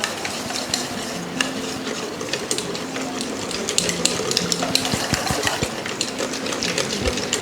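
A spice mixture for Hyderabadi chicken biryani being stirred together, with rapid scraping and clinking of a spoon in a vessel, fairly loud and close, over a soft sizzling background.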